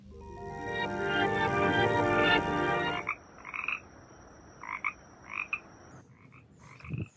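Frogs croak, first a dense, loud chorus of overlapping calls for about three seconds, then scattered single croaks nearby against quieter background noise.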